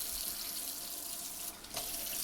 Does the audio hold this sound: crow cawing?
no